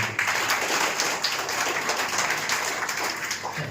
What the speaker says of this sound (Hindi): देखो ताली होनी चाहिए।